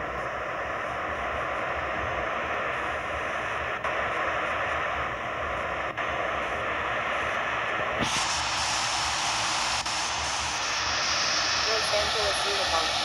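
Aircraft engine in the Infinite Flight Simulator video game during a takeoff from runway 25 left at Los Angeles: a steady, loud jet-like roar that swells and brightens about two-thirds of the way through.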